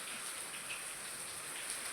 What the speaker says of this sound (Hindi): इतना ज़्यादा बारिश हो रहा है कि पूछो मत